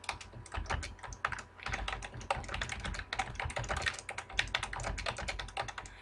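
Rapid, steady clicking of keys on a computer keyboard, close and continuous with brief pauses, no voices.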